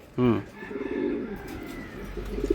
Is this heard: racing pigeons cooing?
yes